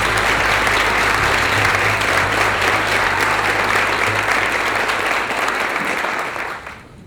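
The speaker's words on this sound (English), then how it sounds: "Let's have a big round of applause for Watch Care Academy" A hall audience gives a big round of applause for Watch Care Academy, dense and loud sustained clapping from many people that fades out over the last second.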